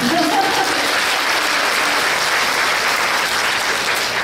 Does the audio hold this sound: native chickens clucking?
no